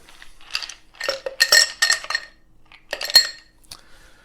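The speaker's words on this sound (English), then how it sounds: "Then I'm going to put some ice in." Ice cubes clink and rattle into a pint glass holding a grapefruit wheel, bright glassy knocks in several quick clusters up close, with a short pause between drops.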